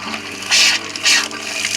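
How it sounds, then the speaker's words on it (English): Water rushing through an RV kitchen sink faucet on a 2020 Winnebago Solis during de-winterizing, with two loud bursts of gushing flow over a steady background hiss and hum, close by. "Okay, so now that we flushed those, now we're gonna do the kitchen sink."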